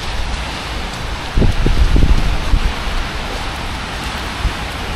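Rain falls on a city street in Bucharest, Romania, a steady patter on surfaces with a few heavier low thuds and bursts of closer splashing in the middle, no speech.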